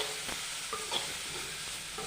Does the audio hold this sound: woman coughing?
no